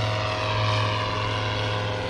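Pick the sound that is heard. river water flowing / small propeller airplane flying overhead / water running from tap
small propeller airplane flying overhead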